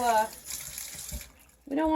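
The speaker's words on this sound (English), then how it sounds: "I'm just going to rinse them in some cool water." Cool tap water runs over freshly harvested basil leaves being rinsed in a sink, a soft, steady hiss of flowing water close by, with a person talking over the start and end.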